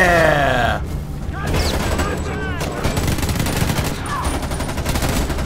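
Gunfire in the shooter game Homefront: The Revolution, dense bursts of shots and booms filling the whole stretch, with a voice talking over the battle.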